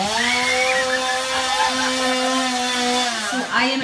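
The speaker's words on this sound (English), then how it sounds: "The guy comes with the chainsaw following them." Chainsaw revved by a performer chasing guests out the exit of a Halloween horror attraction, a loud, steady droning whine held for several seconds with a pitch dip and surge near the end.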